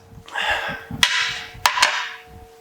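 Drive axle on a Mazda MX-5 Miata being levered out of the differential, working noise followed by a few sharp metallic pops and knocks, close and fairly loud, with no voices.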